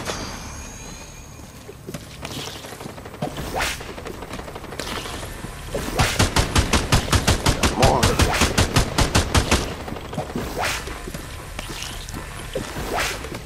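Rapid bursts of automatic gunfire from Fortnite gameplay on PS5, with scattered shots early on building to a loud, fast rattling volley in the middle, then sparser shots trailing off.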